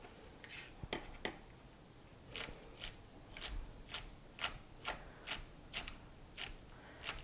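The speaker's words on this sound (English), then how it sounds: "It pays to have a sharp knife. They just kind of cut through these things pretty easily." A sharp kitchen knife slicing through leeks for a chicken and leek pot pie, a series of crisp close cuts in an uneven rhythm, about a dozen strokes with brief pauses, no talk.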